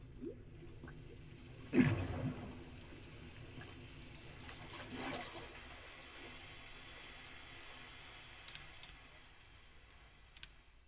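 Water in the Minecraft video game, a faint, steady wash with a brief louder splash near the start, then a quiet, even flow.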